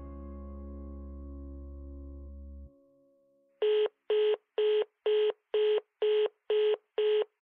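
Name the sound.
dialing a landline telephone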